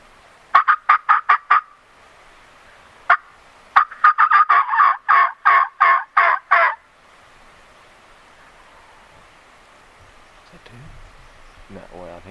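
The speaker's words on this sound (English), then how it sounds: "He gobbled while I was cutting, and then he gobbled again after I finished" A wild turkey gobbles during spring hunting season: a quick rattling gobble, a lone short note, then a longer, louder rolling gobble of pulsed notes, ringing out clearly across otherwise quiet woods before faint rustling at the end.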